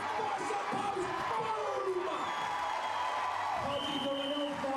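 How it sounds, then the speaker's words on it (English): The crowd at a Scottish strongman event roars and cheers without a break, loud and steady. Whistles and shouts rise out of the noise, and a commentator talks over it. "The crowd absolutely roaring him on."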